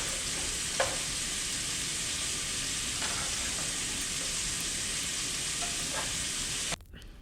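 Carne con chile cooking in a pan, a steady hiss of sizzling with several light scrapes and taps as it is stirred, fairly soft overall and cut off near the end.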